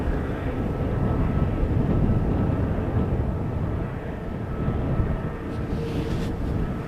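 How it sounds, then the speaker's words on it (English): A KLM Boeing 777 at Amsterdam Schiphol Airport makes a deep, continuous engine rumble that stays loud and steady, easing slightly toward the end. "That sure looks like a triple from KLM."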